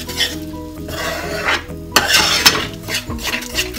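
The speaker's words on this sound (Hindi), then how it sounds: "अब हम इसको अच्छे से मिक्स कर लेंगे।" Moong dal halwa with milk, water and sugar is stirred over a high flame: a spoon scrapes and clinks against the pan in quick bursts over a bubbling sizzle, close and fairly loud.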